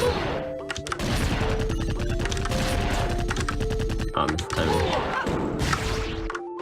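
Enemy gunfire in a shooter video game, loud rapid bursts of shots and impacts running almost continuously over layered game sounds and music, with a brief lull partway through.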